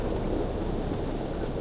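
Heavy rain pours down in a dense, steady roar with a low rumble of thunder beneath it, part of a storm in the Jurassic Park video game.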